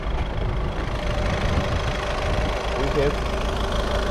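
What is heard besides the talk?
Volkswagen Polo 1.6 TDI diesel engine idling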